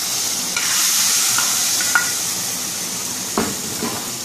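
Crab curry stirred in a pan with fried onions, a steady hiss and sizzle broken by a few scraping strokes of the spoon against the pan, close and fairly loud with no talking.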